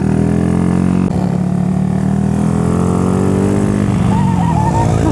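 A motorcycle engine running close by, a loud steady rumble with a brief dip in pitch early on, then idling on.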